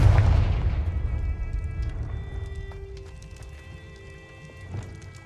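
Confringo blast spell in Hogwarts Legacy, a booming fiery explosion right at the start that fades into a long rumbling decay with scattered crackling debris and a softer thud near the end.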